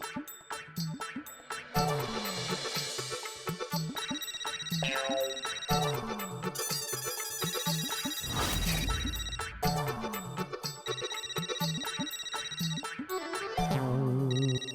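A phone ringtone plays loudly and continuously, a bright electronic melody of repeating tonal phrases with no talk over it.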